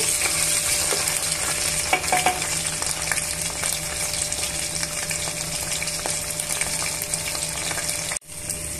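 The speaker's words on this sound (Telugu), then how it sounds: "అల్లం వెల్లుల్లి పేస్ట్ పచ్చి వాసన పోయేంత వరకు వేయించుకోవాలి." Ginger garlic paste fries in a pan for fish curry, a steady loud sizzle with scattered stirring scrapes, ending in a sudden brief drop near the end; nobody speaks.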